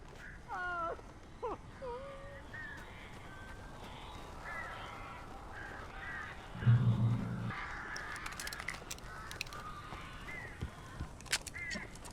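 Crows caw in the horror video game Alan Wake Remastered, a few harsh croaking calls, some near and some farther, over a quiet ambient background with a brief low thud midway.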